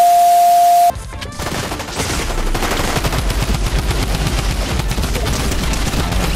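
Fortnite gunfire following a brief steady beep tone, with sustained loud automatic fire and scattered shots rattling continuously for several seconds.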